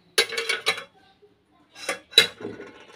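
Dishes, pots and cutlery clatter and clink in short bursts while being cleared up in a home kitchen after cooking and making tea, with a quiet pause between the clusters.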